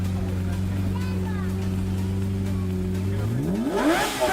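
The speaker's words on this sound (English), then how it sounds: "this Lamborghini owner who decides to rev up his engine for this camera guy watching" Lamborghini engine revving loudly in a street, a sustained droning idle that climbs sharply into a rising roar at the end, with people's voices heard faintly around it.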